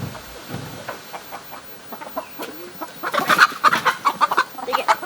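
Broody hens cluck and squawk in their nesting boxes, starting with scattered soft clucks and building into a louder, agitated burst of squawking in the second half.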